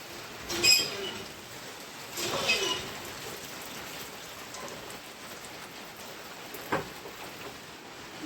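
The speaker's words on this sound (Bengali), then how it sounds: "এই দেখো বৃষ্টি পড়ছে এখন সন্ধ্যাবেলা, এই যে একটু একটু করে এই যে বৃষ্টি পড়ছে।" Light evening rain falls steadily in a soft, faint patter, with a few louder drips and knocks standing out against the wash of drops.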